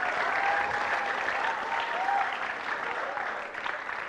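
An audience applauds at a televised presidential candidate show, a steady wash of clapping that thins slightly toward the end.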